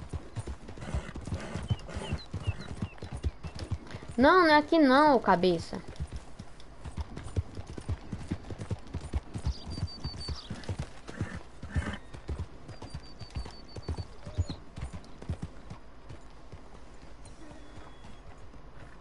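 Horse hooves clip-clop in a steady, close rhythm in the western video game Red Dead Redemption, with a loud neigh near the start, while a player speaks over it.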